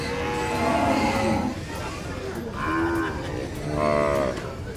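Several long, low moos from a water buffalo at a livestock market, close by and loud, with outdoor background noise throughout.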